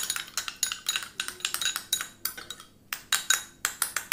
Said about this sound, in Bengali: আমি এবার ভালো করে এটাকে একটু গুলে নেব, ভালো করে মিশিয়ে নিচ্ছি